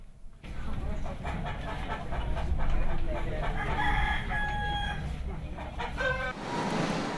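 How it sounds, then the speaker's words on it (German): Chickens and fighting roosters at a livestock market in East Timor, with several loud crows and clucks rising over a busy, noisy background of mixed outdoor sound. "Auch ein paar Hähne für das beliebte Freizeitvergnügen in Osttimor, den Hahnenkampf, sind dabei."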